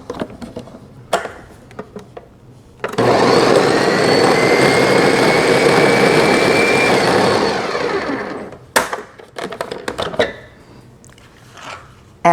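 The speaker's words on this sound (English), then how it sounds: "So in the bowl of a blender, I have put in the bread, the milk, and the broth. And what I'm going to do is I'm going to blend it." A blender whirs loudly through bread, milk and broth, a steady close grinding roar lasting about six seconds before cutting off, with quieter kitchen clatter before and after.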